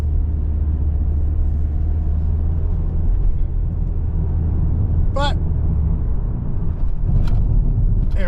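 A 2024 Toyota Corolla LE's modest engine drones steadily from inside the cabin as the car gets up to speed, a constant low rumble with road noise and a couple of brief clicks, and a voice speaks briefly.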